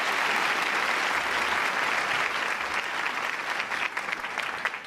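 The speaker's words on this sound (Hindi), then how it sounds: "आप सभी तालियां बजाकर उनका स्वागत कीजिए" Sustained applause from a college audience at an annual function, welcoming the education minister; dense, steady clapping for the full length, slightly thinning near the end, with no speech over it.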